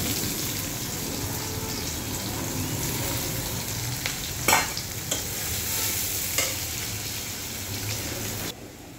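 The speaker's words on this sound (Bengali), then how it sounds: "পেঁয়াজগুলো আমি লাল লাল করে ভেজে নিয়েছি" Onions frying in a pan with black cumin seeds for a Bangladeshi village-style small fish curry, a dense continuous sizzle with occasional spoon scrapes as they are stirred, close and steady before cutting off near the end.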